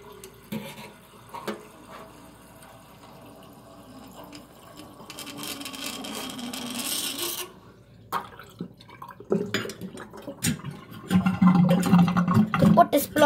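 Water swirls and gurgles in a sink whirlpool over a garbage disposal drain, with drips, splashes and rising turbulent rushing that grows louder toward the end; a voice is faintly present.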